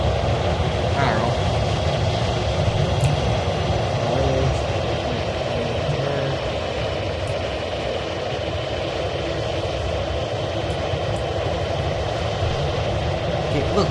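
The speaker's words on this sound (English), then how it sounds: "Earth Canada, I believe, Bombardier Dash 8. Okay, or you can call it a Q400." Bombardier Dash 8 Q400 turboprop engines in a flight video game on a night flight, a steady, even drone and whine that holds throughout, with a person talking over it.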